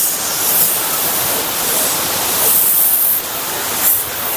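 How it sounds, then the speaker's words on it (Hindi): A fast waterfall in Neelum Valley, Azad Kashmir, pours down from just below a glacier with a loud, steady roaring rush of falling water and spray, continuous and close, with no other sounds standing out. "गाइस ये देखें कितनी स्पीड के साथ पानी नीचे गिर रहा है।"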